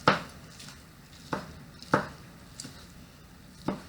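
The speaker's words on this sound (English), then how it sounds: "But I'm just going to take it and just slice it. It's just falling apart. And then just doing a small chop." Knife chopping sliced, falling-apart meat for Reuben sandwiches on a board: five sharp, distinct chops spaced irregularly, close and clear against a quiet kitchen background.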